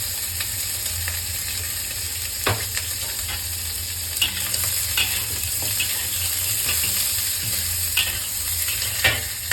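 Pork ribs browning in a little oil in a wok, a continuous sizzle broken by repeated sharp scrapes and clanks of a spatula stirring, close and alone without speech.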